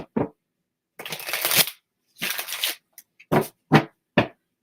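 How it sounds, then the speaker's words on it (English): Tarot cards being shuffled by hand, several crisp riffling bursts of different lengths with short quiet gaps between them, close and clear, with no talking. "Let me just reshuffle to reset the energy for you."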